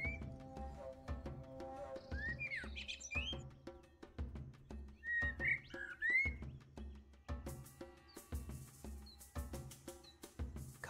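Bright bird chirps and quick whistled calls from the game Copycat come in scattered bursts over a rhythmic, low thumping background, moderately close but fairly soft.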